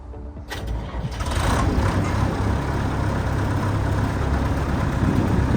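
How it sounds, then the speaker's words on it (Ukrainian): The large diesel engine of a Sampo Rosenlew 690 combine harvester turns over and catches, then settles into a steady, loud rumbling idle that continues without a break. "Дуже м'яко працює двигун."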